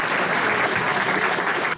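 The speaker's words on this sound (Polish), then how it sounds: "Wielkie brawa dla naszego gościa" Warm, continuous applause from a school audience honoring a guest after a lesson, a dense wash of many hands clapping at once, loud and steady before stopping abruptly at the end.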